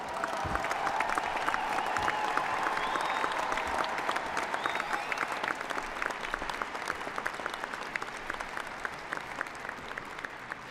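Applause fills the hall at a spring commencement ceremony for doctoral and master's degrees, sustained crowd clapping heard from a distance that holds steady and slowly thins over about ten seconds.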